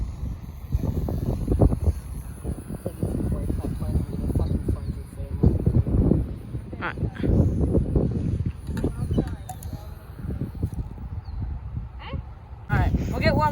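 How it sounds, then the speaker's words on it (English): Strong outdoor wind batters the microphone at a mini RC warplane flying session, a loud continuous low roar and buffeting throughout, with voices talking over it. "It's very windy."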